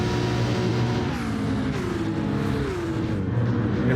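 Race cars in Gran Turismo 7 sweep through the Parabolica curve at Monza, a steady loud engine drone with shifting pitch as several cars pass close together, no voices over it.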